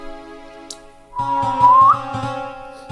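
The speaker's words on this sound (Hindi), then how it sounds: "सीटी तो मैं ऐसे ही मजाक में बजा रहा हूं" A man whistles a short, rising tune as a joke, loud and close, over a steady low tonal drone with rhythmic tapping.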